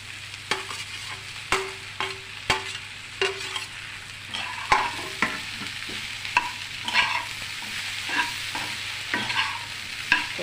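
Cut idli pieces are stirred and fried in a pan with a little salt for idli chat, giving a soft sizzle broken by regular spatula scrapes and clinks, close and fairly quiet, with no talking.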